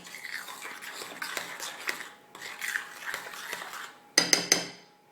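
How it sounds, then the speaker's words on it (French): A spoon mixes tarte flambée batter in a bowl, with soft repeated scraping and clinking strokes at a steady rhythm, ending in a few sharper metallic taps against the rim, close and clear with no talk. "Donc on mélange bien au début avec la cuillère."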